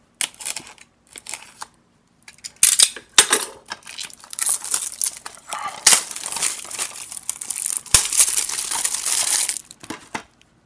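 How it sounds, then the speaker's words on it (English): Scissors snip and crinkle through the plastic shrink-wrap seal on the side of an Xbox 360 game case, close and loud, in bursts of crackling plastic with short pauses between cuts. "Since it's the Xbox 360 game, I'm gonna cut from the side."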